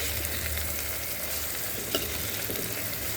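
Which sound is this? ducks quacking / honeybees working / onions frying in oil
onions frying in oil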